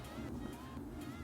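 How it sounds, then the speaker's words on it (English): Snowplows pass by outside, heard from indoors as a steady, broad low rumble with a hissy wash on top that holds for the whole moment, moderately loud and somewhat distant, with no clear voice over it. "some snowplows going by,"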